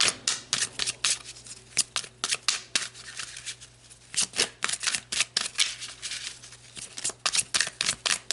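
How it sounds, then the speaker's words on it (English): Tarot cards are shuffled and drawn in quick, crisp riffles and flicks. Close, dry bursts of paper slapping and sliding repeat throughout, with pauses between, and nobody speaks. "So let's pull some more cards"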